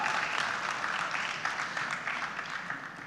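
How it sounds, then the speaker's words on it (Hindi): Steady, even applause from a studio audience at a televised celebrity interview, a dense wash of clapping continuing throughout at moderate level. "सच आप लोग तालियों में कंजूसी कर रहे हैं"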